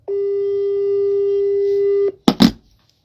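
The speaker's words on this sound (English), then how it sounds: "It's ringing now." A telephone ringback tone sounds as one long, steady electronic tone lasting about two seconds, then cuts off. Two short, sharp bursts of sound follow.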